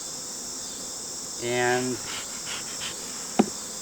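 Honey bees around a hive in a honey production yard give one brief buzzing pass near the middle, over a steady background hiss, with a single spoken word and a short click near the end.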